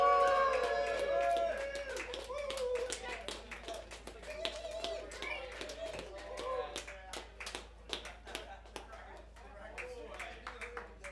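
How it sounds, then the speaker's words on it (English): Scattered audience clapping with cheers and crowd noise at the start of a comedy rap show, loud at first and thinning into sparse claps, with voices throughout. "please, at the top of your lungs, start clapping and make some noise"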